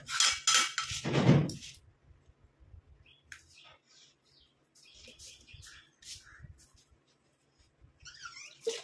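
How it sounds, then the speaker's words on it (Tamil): A spoon scrapes and stirs a thick homemade herbal hair dye paste in a bowl, with a louder burst of scraping at the start followed by soft, intermittent clinks and scrapes, close by. "நல்லா கலந்து விட்ட மாதிரி நல்லா மிக்ஸ் ஆகிற மாதிரி"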